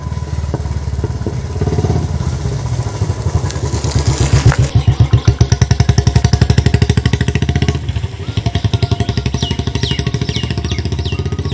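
A Royal Enfield motorcycle fitted with a long bottle Punjabi silencer, heard up close as a loud, deep, thumping exhaust beat that rises from idle into a rapid, throbbing rev, then settles back, with no talking over it.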